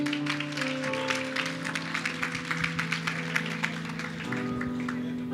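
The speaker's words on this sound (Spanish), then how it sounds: "Un aplauso fuerte al Señor." A church congregation claps together, a dense patter of hands running throughout under sustained keyboard chords, moderately loud and without voices.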